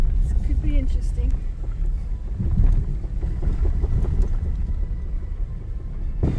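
A 4-wheel drive vehicle grinds along sandy bush tracks on Fraser Island, its engine rumbling low and steady with bumps and rattles throughout, wind buffeting the microphone and a voice talking over the drive.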